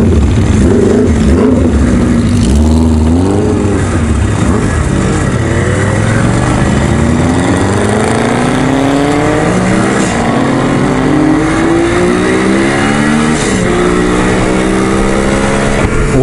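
Cruiser-style motorcycles from a biker club's group charity ride rumbling loudly and close, engines revving and climbing through gears in rising and falling sweeps for the whole stretch, with wind noise and no talking.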